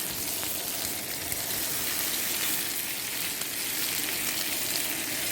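Meatballs cook on an outdoor grill at a Fourth of July cookout, giving off a steady, dense, close sizzle with light crackling that stays even throughout, with no voices.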